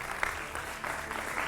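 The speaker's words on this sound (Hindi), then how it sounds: "जोरदार तालियों से स्वागत कीजिए भारतीय जनता पार्टी के राष्ट्रीय" Studio audience applause greets a guest on a Hindi political television debate show, steady clapping that fills the whole short stretch with a few sharper claps standing out.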